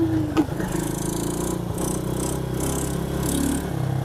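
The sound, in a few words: 125 cc diesel automatic ATV engine revving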